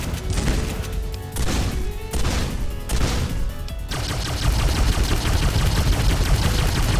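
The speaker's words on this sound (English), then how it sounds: "we've got the Beefier Weapons mod. It makes weapons sound beefier." Heavy, punchy gunfire in Terraria with the Beefier Weapons mod: several loud booming shots in quick succession, then a dense, continuous roar of rapid fire, with no talking.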